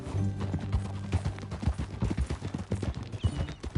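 Horse hooves clip-clop in quick, rhythmic beats during a ride in the video game Red Dead Redemption 2, close and steady for a few seconds.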